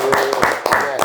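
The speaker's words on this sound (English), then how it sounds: "Yeah, clap for that," A short burst of people clapping to honor an Oscar win, close and fairly loud, with someone talking over the claps.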